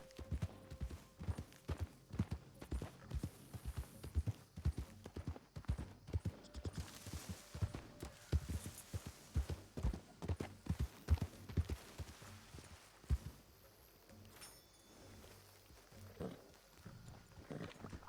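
Horse hooves clip-clopping at a steady walking rhythm in the roleplay game RedM, the clops close and clear, easing off toward the end with faint talk in the background.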